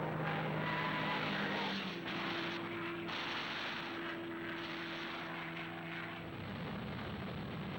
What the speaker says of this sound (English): From Iwo Jima, Mustang fighter planes support B-29 bombers on their raids.